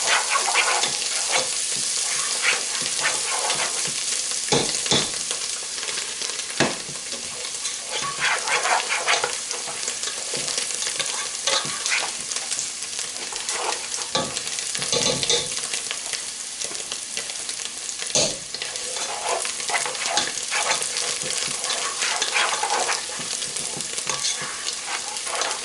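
Fresh parsley is stirred into a fish stew in a pot, with a loud, steady bubbling simmer close by. Frequent spoon scrapes and clinks break through it, and there is no talking.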